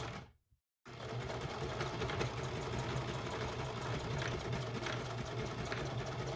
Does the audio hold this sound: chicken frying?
no